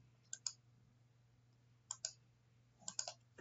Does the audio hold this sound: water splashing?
no